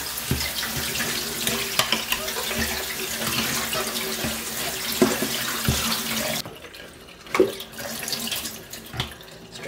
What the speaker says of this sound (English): going to give this another quick rinse